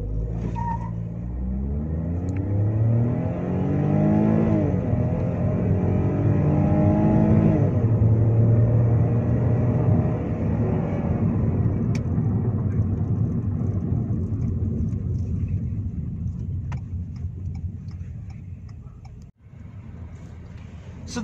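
A Ford EcoSport accelerating hard from a launch with traction control off, its engine rising loudly through the revs, shifting and climbing again, then easing off as the drone fades near the end.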